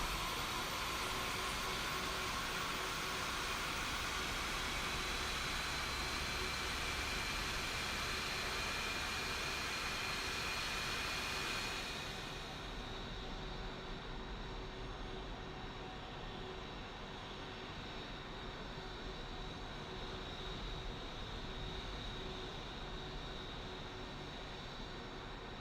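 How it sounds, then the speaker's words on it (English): Engine number two of an Airbus A320neo spools up during a start in Microsoft Flight Simulator, a steady loud roaring whoosh whose high hiss drops away midway while the lower rumble continues alone. "let's go for an engine start on engine number 2"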